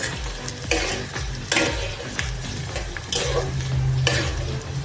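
Chopped onions fry over low heat in a wok for chicken curry, with repeated spatula scrapes and clanks cutting through a constant sizzle.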